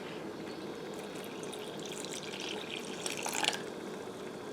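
Cold water pours steadily into blueberry waffle batter, a soft continuous splashing hiss with a brief louder surge near the end.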